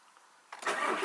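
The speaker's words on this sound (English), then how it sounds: "there's a deeper tone to the engine idle" A car engine cranks and catches after a quiet lead-in, then settles into a loud, steady low idle at close range.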